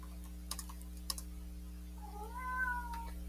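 A domestic cat gives one drawn-out meow near the end, preceded by a few faint clicks like keyboard typing over a steady electrical hum.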